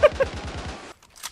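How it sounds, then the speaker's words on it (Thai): Rapid burst of machine gun fire in the World War II shooter Days of War, about eight quick evenly spaced shots that stop abruptly, followed by a brief faint after-sound. "ปืนพกมา โอ้โห MG นอนกราด"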